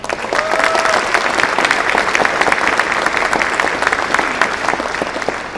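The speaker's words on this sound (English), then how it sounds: "give yourselves a round of applause, and please join me in doing that" An audience of service members and guests gives sustained applause, a dense, even roar of many hands clapping with a few sharper nearby claps, plus a faint brief tonal whistle early on.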